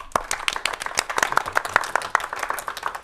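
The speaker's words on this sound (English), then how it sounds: "If you guys will clap twice as fast," A small audience clapping quickly and unevenly, many sharp close claps layered in a fast rapid patter that fills a modest room, without voices.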